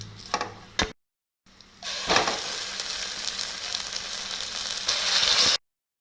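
Ground masala paste drops into a hot pan of soya chunks and sizzles loudly and steadily, a burst of frying hiss that holds for several seconds after a few brief knocks, with no one talking.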